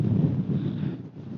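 Blustery wind buffets the microphone on an open mountainside trail in Cumbria, a steady broadband rush with slight rises and dips and no voices.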